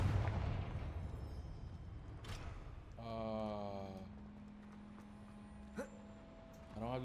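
Confringo, a fiery explosive spell cast in Hogwarts Legacy, lands as a loud burst that fades over about a second, then gives way to game tones, a brief crack and a voice.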